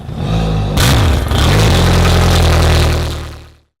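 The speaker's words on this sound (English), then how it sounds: "just turn the key and start this engine" A fuel-injected boat engine with flushing muffs fitted and water running cranks, catches and revs, then settles into a loud, steady mid-pitched running note for a few seconds before cutting off.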